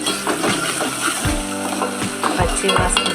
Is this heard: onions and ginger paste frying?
yes